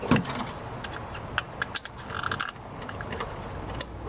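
A screwdriver loosens residue-caked screws on the underside of an incubator's plates. Faint scattered clicks and small metallic scrapes sit over a steady background hiss, with no talking.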